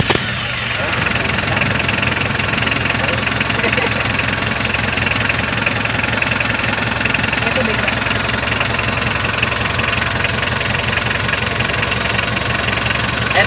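An Isuzu 4BE1 diesel engine idles roughly while warming up, with a steady, loud clattering knock and vibration that continue unbroken for over thirteen seconds.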